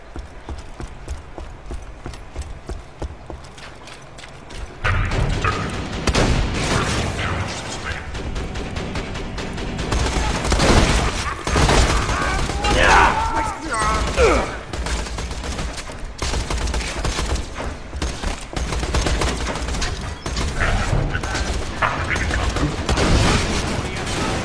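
Gunfire from the shooter game Borderlands 2, rapid volleys of shots in bursts over a dense, loud game soundscape with music and effects, continuing steadily after a quieter opening.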